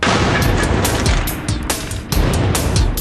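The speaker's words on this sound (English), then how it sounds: "the explosive charge will be set next to the fire" An explosive charge set off beside a fire to quench the flames, in a TV science stunt: loud, dense booming and crackling blasts fill the whole span, with sharp bursts recurring close up.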